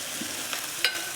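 Soybeans sautéing in a pan with spices, a dense continuous sizzle and a couple of quick stirring scrapes, close up, brief, with no voices.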